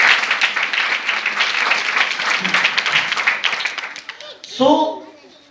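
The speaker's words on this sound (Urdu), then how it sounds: "زوردار تالی اپنے خداوند کے لیے۔" Church congregation applauding loudly for the Lord during a sermon, a dense and energetic burst of clapping that tapers off before the preacher's voice returns.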